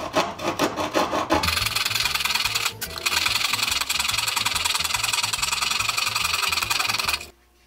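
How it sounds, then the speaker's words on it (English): A small hand pad saw, its blade recently sharpened with a file, cuts through wood in a quick series of rasping strokes, then settles into a fast, steady sawing rhythm up close with no talking. "This little thing they call a pad saw."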